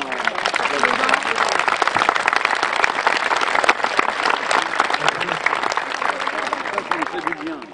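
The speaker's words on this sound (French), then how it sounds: "la première des choses à faire, c'est de vous applaudir" Audience applauding outdoors in a manor park at a fashion and art show, a dense, steady burst of many hands clapping close by that holds for several seconds, with faint voices beneath.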